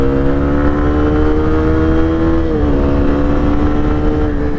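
A Zontes 310 R motorcycle engine holds at high revs near the limiter, a loud, close, steady buzzing whine with layered harmonics that stays level and slightly shifts pitch partway through.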